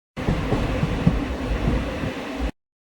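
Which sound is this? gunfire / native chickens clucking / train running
train running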